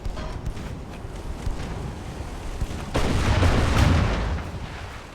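Naval artillery fire in the warship game Ultimate Admiral Dreadnoughts, with scattered distant thuds giving way to a heavier booming roar and a rumbling swell near the end, with no talk.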